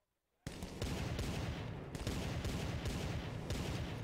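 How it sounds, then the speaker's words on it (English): Rapid, dense gunfire from a Counter-Strike match at a LAN tournament, with Glock pistol shots blending into a continuous, loud stream of overlapping reports that bursts in suddenly after a moment of silence. "Steel in middle, taking a shot there at that window room with the Gleal."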